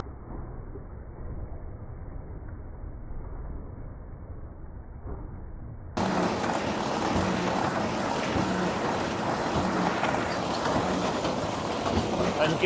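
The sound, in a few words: Krone Big Pack 1290 HDP baler knotting and compacting straw bale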